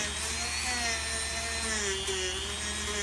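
A power tool steadily shaves down the gum rubber sole of an old Doc Martens boot, a constant high whine with a droning hum that holds even and close throughout, with no talk.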